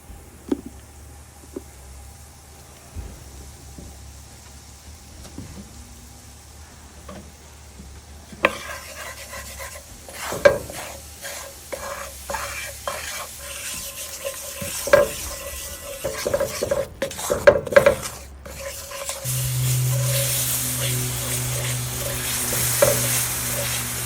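Bacon grease frying in a pan with pork chops, a steady soft sizzle under intermittent scraping and stirring clatter, growing louder and busier toward the end.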